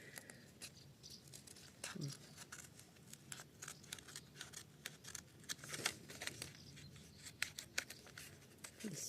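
Small precision scrapbooking scissors snip through felt in quick, irregular cuts, close and quiet, with faint rustling between snips.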